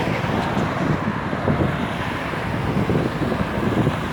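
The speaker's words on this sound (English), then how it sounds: "you can hear the wind blowing. Because as I told you, city is quite windy" Steady, loud wind buffets the microphone on a city street in Baku, a continuous roaring rush with faint traffic rumble beneath and no break in the noise.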